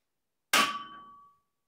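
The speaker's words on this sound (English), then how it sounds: "Hammer it down a little bit." A small hammer striking metal shelf parts during assembly, one sharp clang that rings out with a fading metallic tone, alone in a quiet room.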